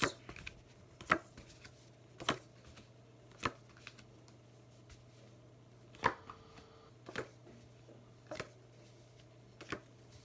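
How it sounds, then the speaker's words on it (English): Tarot cards slapped down one at a time onto a surface, crisp card snaps landing roughly every second over a low steady hum, with no talking. "And now I'm going to lay out your cards."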